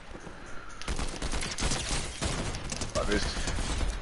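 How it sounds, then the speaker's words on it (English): Rapid gunfire from a Fortnite match, dense bursts of shots running almost continuously at moderate distance, with voices talking over parts of it. "Oh, I'm getting shot at over here."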